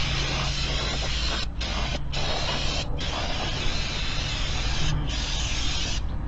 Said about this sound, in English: we're gonna hit it with some brake cleaner using SuperTech brake spark cleaner